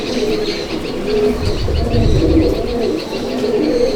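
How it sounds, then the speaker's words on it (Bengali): Punjabi pigeons in a loft give soft, low cooing over a steady bed of rustling and chirping, with several birds close by and calling continuously. "এগুলো হচ্ছে আমার ঘরে একদম বেস্ট পায়রা, পাঞ্জাবি পায়রা।"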